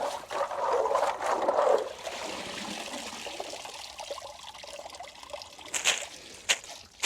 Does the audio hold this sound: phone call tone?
no